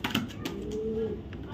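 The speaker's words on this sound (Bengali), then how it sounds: "একদম টপ কোয়ালিটির একটা মাদি কবুতর।" A top-quality female racing pigeon gives a single short, low coo, faint and close, over a soft background hiss.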